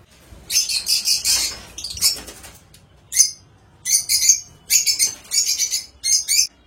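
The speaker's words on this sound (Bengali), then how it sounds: "লাভবার্ডদের কলোনিতে ছেড়েছি, ওরা সব ওদেরকে দেখে কি চিল্লাচ্ছে, আওয়াজ তো শুনতেই পাচ্ছ তোমরা" Lovebirds in a colony screech at cockatiels in loud, harsh bursts, close and repeated in quick irregular clusters with short silences between, mixed with wing flutters.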